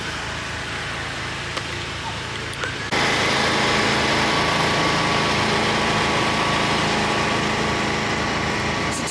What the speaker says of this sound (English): It's a tiny combine